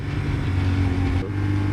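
A CFMOTO 450SR motorcycle accelerates, its engine a loud, steady droning roar with a low rumbling hum held throughout, no voices over it.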